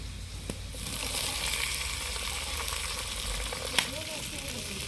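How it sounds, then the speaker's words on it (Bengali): Chopped onion and capsicum sizzle steadily in a hot pan over garlic and ginger for restaurant-style chilli chicken, a continuous close frying hiss with a sharp crackle near the end. "এগুলো আমি হালকা করে ভেজে নেব"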